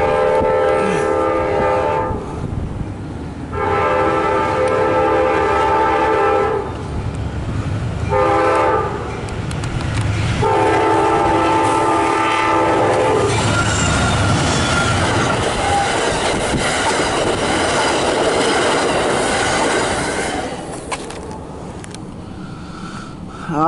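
Amtrak train PO30 runs eastbound toward DC past a trackside defect detector, its loud horn blasting in several long bursts over steady rumbling wheels and rail noise that carry on alone throughout.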